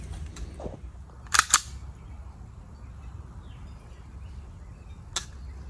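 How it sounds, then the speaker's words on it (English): A pistol dry-fired at home with a Mantis X10 trainer gives a few sharp, isolated clicks: a quick pair close together, then a single one after a pause, in an otherwise quiet room. "I'm shooting it in different positions, different arm lengths and pulls and things like that"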